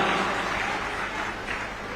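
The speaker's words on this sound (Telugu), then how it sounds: "గట్టిగా చప్పట్లు కొట్టండి." A crowd at a BRS political meeting claps loudly in a dense, sustained wave of applause that fills the whole moment without any voice.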